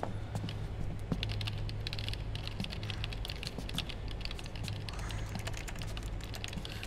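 Rapid clicking of keys typed on two keyboards at once in Metal Gear Solid 4, a dense continuous patter of fast keystrokes close up, with a low hum beneath and no talk.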